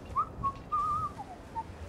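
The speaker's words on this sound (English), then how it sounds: "I've got a whistling bloody robot." A robot in the video game Fallout 4 whistles a short, bright tune of several clear sustained notes with gaps between them, moderately loud over a quiet background.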